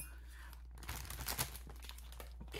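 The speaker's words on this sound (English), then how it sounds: "We're using the Debra-proof packaging fixer there, the scissors." Close crinkling of a plastic Wise Cheez Doodles snack bag as it is snipped open with scissors and pulled apart, a short rustle with a brief crisp cut in a quiet room.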